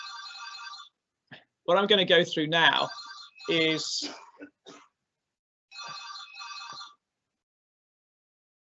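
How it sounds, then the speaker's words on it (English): Mobile phone ringtone chiming in the background in repeated short bursts while someone talks in the foreground. "it's my phone going in the background"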